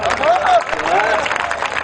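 An audience at a poetry gathering breaks into brief applause, a short burst of clapping heard together with a voice.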